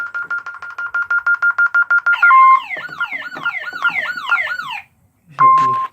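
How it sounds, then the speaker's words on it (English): A shed burglar alarm sounds loudly up close, first a rapid pulsing beep, then a warbling, sweeping siren pattern, a short pause, and another tone burst. "The alarm can go off."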